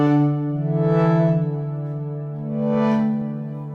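A sustained synth pad built in UVI Falcon with distortion applied across all voices, a thick buzzing chord holding steady with slow swells in brightness, heard alone without talk.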